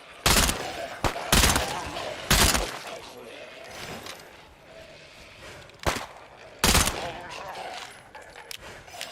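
Loud bursts of video game gunfire, spaced by short quiet gaps, with some sharp single cracks among them and quieter noise in between.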